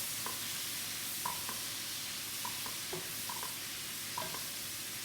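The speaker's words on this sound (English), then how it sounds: "So that's how I got hooked on mushrooms and onions. Toss these around a little bit." Mushrooms and onions fry in a pan with a soft, steady sizzle, and a few light clinks and scrapes come as they are tossed and stirred. The sounds are quiet and nobody speaks.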